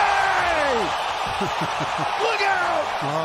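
A basketball arena crowd roars throughout an NBA game as LeBron James makes a play. An announcer shouts excitedly over the dense, loud cheering.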